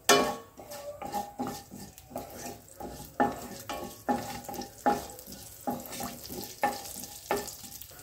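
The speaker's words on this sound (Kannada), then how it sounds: "ಸಾಸಿವೆ ಎಲ್ಲ ಚಟಪಟ ಅಂತ ಸೌಂಡ್ ಬರ್ತಾ ಇದೆ" Mustard seeds crackle in hot oil in a temple-style tempering with asafoetida and turmeric, under a soft sizzle. A spoon clinks against the pan in steady, regular strokes, close and clear, with no talk.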